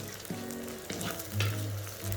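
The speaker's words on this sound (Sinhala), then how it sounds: "මුලින්ම රම්පේ කරපිංච ටික එකතු කරගෙන ටිකක් බැදෙනකොට" Rampe and curry leaves frying in a couple of tablespoons of hot oil, a steady close sizzle and crackle with a few sharper pops and stirring scrapes, no voices.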